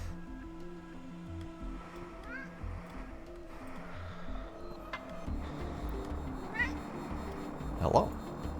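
A hungry cat named Gila meows for food at home, a few short rising cries near the end, mixed in with someone talking and background game music.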